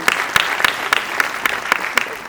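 A short burst of clapping from a small audience, individual claps standing out in a loose, uneven rhythm.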